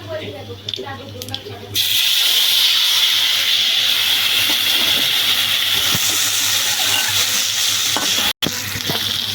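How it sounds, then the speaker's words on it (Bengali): Black cumin seeds hit hot oil for tempering a prawn curry, bursting into a loud, continuous sizzling hiss after a quieter moment with a voice, sustained close up with one short break. "কালো জিরে ফোড়ন দেবো"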